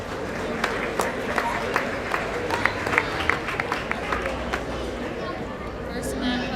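Crowd applause fills a meat goat show arena, a steady wash of clapping from many hands with a few sharper claps standing out, carrying on for several seconds with faint babble in the room.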